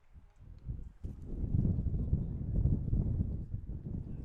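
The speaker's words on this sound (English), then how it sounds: "Another big gust of wind." A gust of wind buffets the microphone at an outdoor high school baseball game, a low rumbling roar that swells after the first second and stays loud and steady, with no talk.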